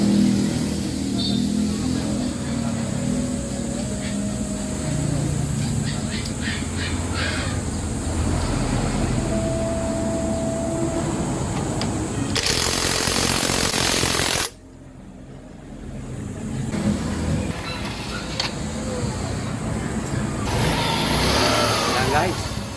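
Rusi Royal motorcycle engine running close by during a gearbox test after repair, a steady rough drone with some revving, briefly swelling into a louder burst, with people talking over it.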